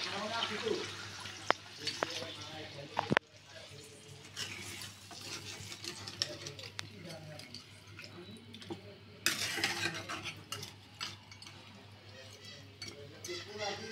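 Water being poured into a pot of browned goat trotters cooking for nihari, with clinks of a spoon against the pot, stirring and faint sizzling, close and fairly quiet, with a voice talking over part of it.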